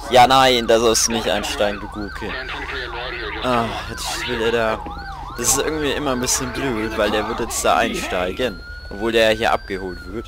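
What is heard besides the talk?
police siren in video game GTA V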